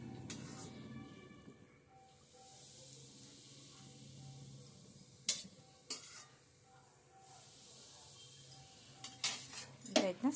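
Hot oil is mixed into maida flour for shenga holige dough: soft scraping and stirring with a faint sizzle, then a few sharp clinks of utensils against a metal bowl near the end.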